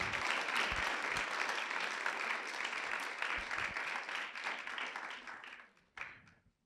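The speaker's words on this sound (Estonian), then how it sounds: "Aitäh, aplaus!" An audience at a literary evening honouring poetry prize nominees applauds after a reading, with steady dense clapping that thins out and fades near the end, followed by a last few scattered claps.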